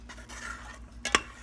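Spoon stirring hamburger helper pasta and ground beef in an Instant Pot, soft scraping strokes ending in a couple of sharper clinks against the metal pot, close by with no talking.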